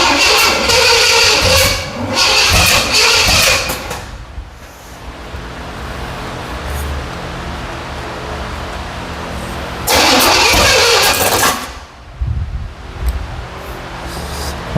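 A 1977 Pontiac Firebird barn-find engine with a freshly turned distributor is cranked in two loud, close bursts, with a lower steady rumble between them.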